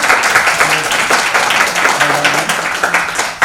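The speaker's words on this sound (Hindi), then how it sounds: "तो इसलिए एक बार जरा जोरदार तालियां" An audience at a Kalam Bhubaneswar gathering breaks into loud, sustained applause, a dense crackle of many hands clapping close by that stays strong and even from start to finish.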